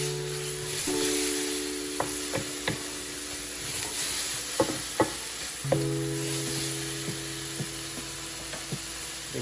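Beef browns on high heat in a hot pan alongside bacon, giving a continuous sizzle broken by scattered scraping and stirring clicks, close and fairly loud, with a steady background hum.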